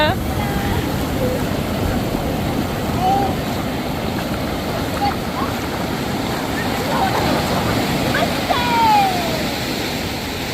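Sea waves washing onto a beach at Colva, Goa, a continuous broadband roar of surf close by, with people talking and laughing over it.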